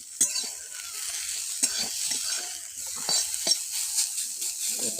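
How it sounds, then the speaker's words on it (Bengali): Saag greens frying dry in plain oil, a steady close sizzle broken by scraping stirs and light clicks of a utensil against the pan, with no voices. "এই শাকটাকে ভালো করে ভাজতে হয় বন্ধুরা, শুকনো শুকনো করে, শুধু তেল দিয়ে বন্ধুরা।"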